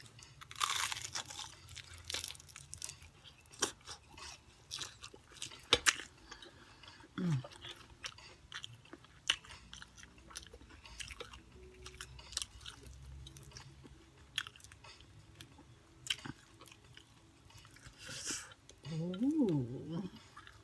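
Crunchy fried chicken chewed close to a microphone, repeated loud crisp crunches and wet smacking bites over about twenty seconds, with occasional voiced sounds between mouthfuls.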